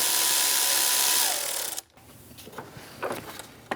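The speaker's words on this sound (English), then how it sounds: "Using a 10mm socket, we're going to remove our negative battery terminal by loosening up this nut." Mechanical tool sound while a 10mm socket loosens the negative battery terminal nut on a 2000-2016 Mini Cooper, a steady whirring first, then a short drop to quiet followed by light irregular clicks and metallic taps.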